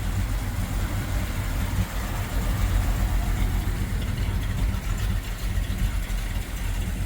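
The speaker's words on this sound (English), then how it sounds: "This old truck runs good. This sounds good too. It's kind of quiet, you know." A Chevy C10 truck engine idles quietly, a steady low rumble that holds even and smooth throughout, with no voices over it.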